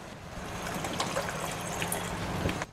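Water is poured into a simmering peas gravy (mutter masala) in a home kitchen, making a continuous trickling, splashing pour that runs steadily for a couple of seconds and then stops abruptly, with no talking over it.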